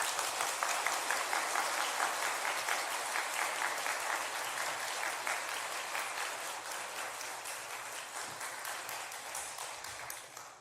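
Sustained applause from a church congregation welcoming an elder to the front, a dense, steady clapping that carries on for several seconds and gradually tapers off.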